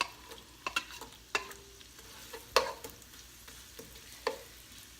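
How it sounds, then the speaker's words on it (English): Thinly sliced onions sauté quietly in oil for a shrimp scampi sauce, with a soft, steady sizzle broken by several sharp scraping stir clicks. "I have my thinly sliced onions. I'm going to start with those."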